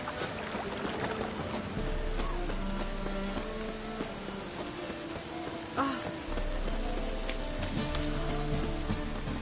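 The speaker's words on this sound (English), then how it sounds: "It's raining buckets." Steady rain patters in a dense, constant wash in The Witcher 3 video game, with a low hum and faint game-like tones underneath.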